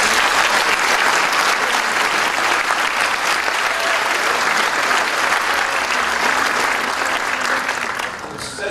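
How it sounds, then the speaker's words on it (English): A large audience applauds middle school prize winners at a 2011 prize day, with loud, dense, sustained clapping that fills the room steadily, then eases slightly at the end. "let's give them all a round of applause"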